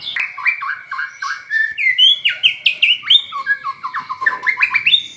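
An oriental magpie-robin sings inside a covered cage, close and clear, pouring out a rapid run of varied whistles, chirps and squawky notes without pause.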